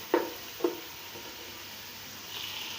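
Large tomato slices frying in a pan for a pulao, a steady soft sizzle broken by two sharp knocks of a utensil near the start, the hiss swelling slightly toward the end.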